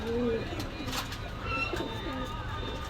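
Pigeons cooing in a pigeon shop, several low throaty coos close by over a busy background hum with other bird calls, a voice briefly audible.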